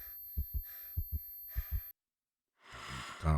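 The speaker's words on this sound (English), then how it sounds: "This girl breathing." A girl breathes heavily in the One Night: Burlesque video game, with several short sighing breaths in a steady rhythm, a brief silence, then a longer, louder exhale at the end.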